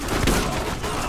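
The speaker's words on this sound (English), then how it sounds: "This shotgun has the power." Shotgun fire in the PC shooter Borderlands, a dense, loud burst of gunfire filling a short moment, booming and saturated with no pauses.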